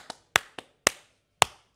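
One person clapping alone on a Spanish-language entertainment talk show: five sharp, separate claps at an uneven pace, close and clear against silence.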